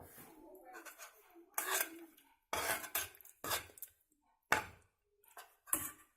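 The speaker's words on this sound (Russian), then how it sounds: "Перемешиваю и ставлю опять на огонь." Spoon clinks and scrapes in a pot as drunken cherries are stirred into raspberry syrup, in short separate bursts of metallic knocking with quiet gaps between, close and clear.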